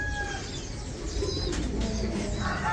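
Racing pigeons coo inside a loft during a race day, with soft, low calls under a constant wash of background noise.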